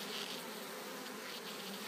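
A packaged colony of honey bees, boxed for installation into a top bar hive, fills the air with a dense, continuous buzz, close and steady throughout with no voices over it.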